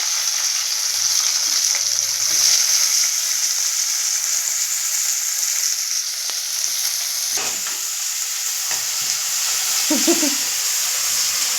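A child stirs Maggi noodles with carrots, beans and tomato in a pan, under a constant loud frying sizzle with occasional utensil scrapes.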